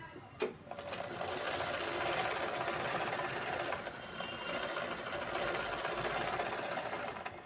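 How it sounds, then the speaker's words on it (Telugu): A sewing machine stitching a blouse hem runs continuously and close up, a steady whirring drone with a brief click near the start, with no talking over it. "ఇదే లెవెల్గా మనము మొత్తం స్టిచ్ చేసుకోవాలండి"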